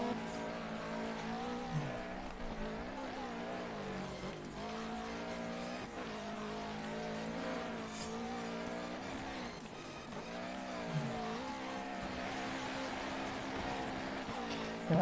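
Rally cars race on snow in the Dirt 3 video game's Snowmass rallycross sprint, engines droning and revving steadily with tire squeal and skids, loud and continuous throughout.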